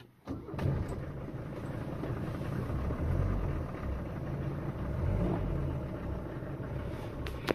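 A Mercedes W123 diesel engine turns over and settles into a steady idle, a continuous low rumble with a slight clatter, close and fairly loud, with no voices.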